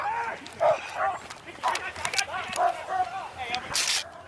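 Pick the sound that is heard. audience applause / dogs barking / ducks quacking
dogs barking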